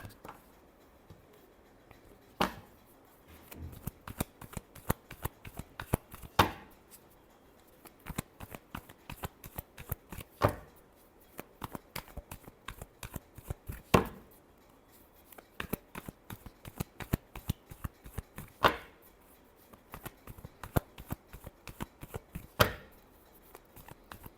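Tarot cards shuffle quietly with repeated sharp riffling snaps and soft card flicks at an irregular, close-up rhythm throughout.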